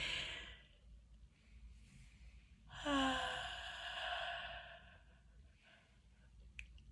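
A person gives a deliberate, elaborate yawn that ends in a big sigh out through the mouth, with a drawn-out breathy, voiced exhale in the middle and quieter breaths before and after.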